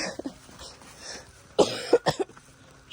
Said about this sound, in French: Je suis désolée pour la toux